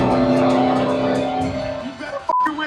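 A car engine accelerating hard during a chase, its loud rising whine fading into a lower drone, then sharply cut by a sudden bang and a high tone near the end.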